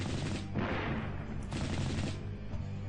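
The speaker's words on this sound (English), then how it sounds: "Open fire. Bring that war buggy down." Gunfire in the strategy game Warhammer 40,000: Final Liberation, with dense bursts of rapid shots and booming blasts from units firing on a war buggy, heard as loud overlapping volleys.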